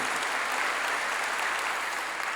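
A church congregation claps together in praise during a Korean sermon, a dense, even wash of applause held at steady loudness from start to finish, with no voices over it.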